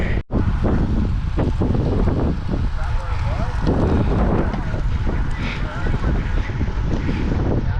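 Heavy wind noise buffets the microphone while cycling on an outdoor training ride, a loud steady rushing roar throughout with brief gusty dips, and a voice speaks under it.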